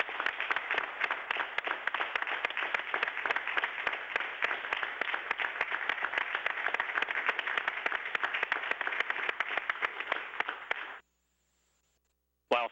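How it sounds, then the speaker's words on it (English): A large crowd applauds steadily for about eleven seconds, a dense wash of clapping that stops abruptly, followed by silence, at a space shuttle STS-135 launch event. "You certainly deserve a round of applause"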